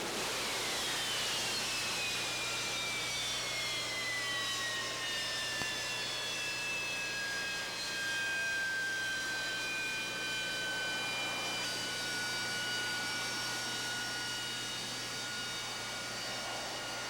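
A jet aircraft engine blasts steadily with its thrust pointed downward to hover, a continuous roar with a whining tone that slowly falls in pitch, heard from a distance with no talk.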